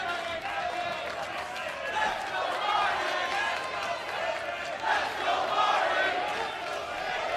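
A divided crowd at a professional wrestling match in Las Vegas roars and chants steadily throughout, a dense wash of many voices with surges of shouting and no pauses.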